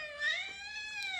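A cat meows in one drawn-out, wavering call with clear rising and falling harmonics, close and fairly loud, with no speech over it.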